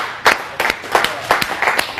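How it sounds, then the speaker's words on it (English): Audience clapping for actors at a live online magic show, a short burst of sharp, separate claps from a small group, uneven and fairly close. "Give my actors a round of applause."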